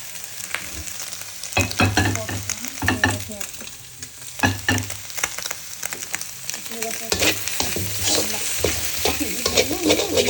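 Beans being stir-fried in a hot pan for fried rice, sizzling steadily with repeated scraping clatters of a spatula against the pan, close and loud, with no one speaking.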